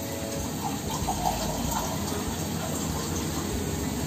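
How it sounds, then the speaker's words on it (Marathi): Water is poured steadily into an upturned pot lid set over a vegetable pan, producing a continuous close gush that runs the whole time. "पाणी ठेवणार आहे एका झाकणामध्ये।"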